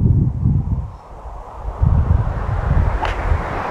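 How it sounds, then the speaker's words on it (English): Wind gusting across an open golf course at Keighley Golf Club, a loud rumbling buffet on the microphone with rustling, rising and falling steadily, no voices. "We're not really used to playing in the wind that much."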